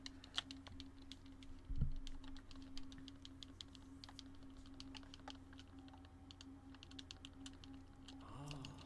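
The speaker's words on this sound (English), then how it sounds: "I hope my controller spamming is not that loud." Rapid, light clicking of game controller buttons being spammed during play of Tears of the Kingdom, continuous and faint with a steady hum underneath.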